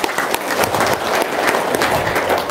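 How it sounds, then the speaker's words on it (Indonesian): Audience applause, dense and steady, a broad wash of many hands clapping together throughout with no voices standing out. "Dan itu tepuk tangan dulu dong."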